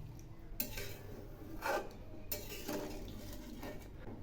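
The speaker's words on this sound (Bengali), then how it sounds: "একটু নেড়ে দিচ্ছি।" Fish curry with added water is stirred in a pot, giving faint, intermittent scrapes and liquid sloshes at close range.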